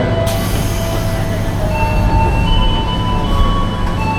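An Indonesian passenger train pulls out of a station, loud rumbling wheels and car noise with high metallic squeals and whining tones rising, close and continuous throughout.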